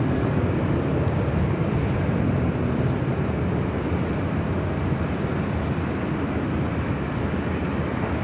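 A Southwest airliner in special Triple Crown livery, flight 928 from Sacramento, landing at LAX, gives a steady, loud broadband roar that holds evenly throughout with no voices.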